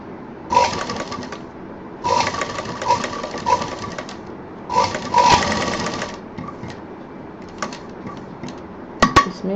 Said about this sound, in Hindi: मुझे थोड़ा एहतियात से मशीन चलानी होगी